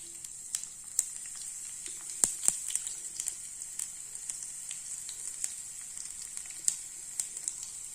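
Chana dal and mustard seeds sizzling in hot oil in a pan while making spinach rice, with a steady soft frying hiss and scattered small pops, heard alone.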